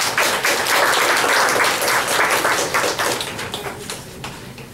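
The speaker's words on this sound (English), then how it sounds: "Another round of applause for Ms. Lee for her activism and for her energy" Audience applause following a speech at a grand opening event, a dense burst of many hands clapping that starts loud and gradually thins and fades over several seconds.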